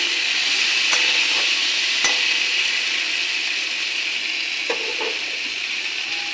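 Potato and pointed gourd sizzle loudly in hot oil with a spice tempering, a dense continuous hiss broken by a few scattered clacks of a spoon stirring the vegetables.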